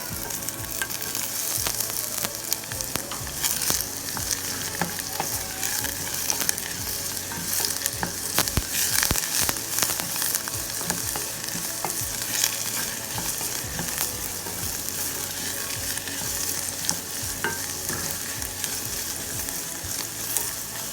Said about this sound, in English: I'm sauteing the celery and the carrot and the onion together